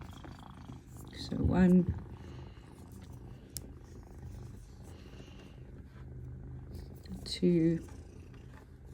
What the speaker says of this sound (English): Can you hear his purring?